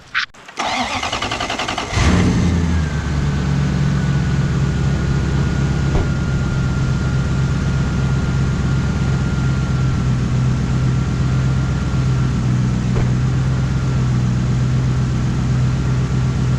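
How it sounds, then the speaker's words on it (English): A Lexus LS400 engine cranks and starts, then settles into a steady, loud idle that hums on continuously with a faint high whine. "I always forget how nice this car sounds."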